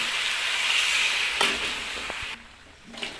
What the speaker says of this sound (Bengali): হালকা জল দেওয়া হচ্ছে।